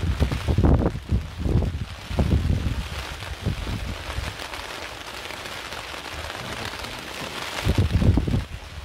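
Heavy rain falls on a tent at an overnight camp, a steady close patter with gusty bursts of wind rising and falling throughout, loudest near the start and end, with no talking.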